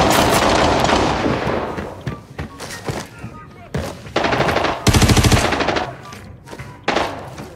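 Video game gunfire in Arena Breakout, including a SCAR rifle, comes as loud bursts of automatic fire and sharp single shots with gaps between them. Players talk over and between the shooting.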